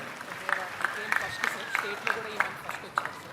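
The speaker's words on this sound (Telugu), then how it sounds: "గట్టిగా చప్పట్లు కొట్టి అభినందించండి" An audience at a Chief Minister's public event in Rampachodavaram claps in short, separate bursts, fairly faint and spread out rather than a full ovation, with a voice in the background.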